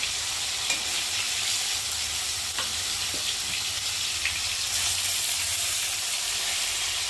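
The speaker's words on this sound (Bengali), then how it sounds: "এখন আমি মাছগুলোকে ভেজে নেব" Steady, close sizzling of fish frying in hot oil, a continuous crackling hiss with a few faint clicks of a utensil.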